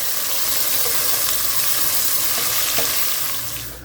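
Ginger, garlic and onion fry in a pan with a loud, continuous sizzle and crackle, occasional stirring scrapes, tapering off slightly at the very end.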